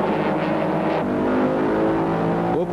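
VW Beetle race cars in the 1998 French Super VW Cup accelerating off the start line, a loud dense engine roar from several cars at once, with a rising rev near the end.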